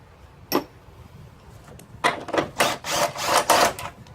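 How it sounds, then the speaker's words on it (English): Bolts coming off an engine mount on a 2000 Ford Focus, heard as a sharp metallic click followed by a run of loud ratcheting and clattering bursts close by, with no talking. "we get the other 3 bolts off"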